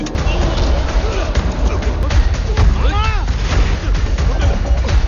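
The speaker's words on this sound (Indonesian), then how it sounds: "Tapi untung saja Sultan, Gada, dan Mansur ini pun selamat dari ledakan itu" A burning bus explodes in a film scene, a dense rumbling roar with scattered cracks and bangs sustained throughout, loud and close, with a brief whooshing sweep near the middle.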